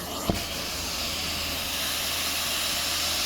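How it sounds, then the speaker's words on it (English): Steam from a carpet cleaning truck mount hisses steadily and loudly through roughly 300 feet of hose in a theater, with a brief knock at the start and no voices. "Yeah, so that's how much steam that we can put out."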